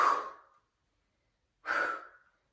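Two forceful breaths exhaled through the mouth in a yogic breathing flow, sharp-onset bursts of air about a second and a half apart, close and clear against silence.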